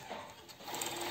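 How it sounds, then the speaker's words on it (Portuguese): An overlock sewing machine runs briefly, stitching fabric with a fast, steady whirring buzz heard up close. "Então, vamos lá na overlock."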